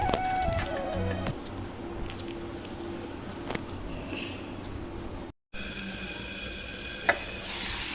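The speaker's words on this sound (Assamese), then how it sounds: "বিলাহী দি অকণমান ভাজি আছোঁ" Tomatoes frying in a pan with potato for a fish and greens curry, a steady soft sizzle running throughout with occasional faint stirring clinks, briefly cut off near the end.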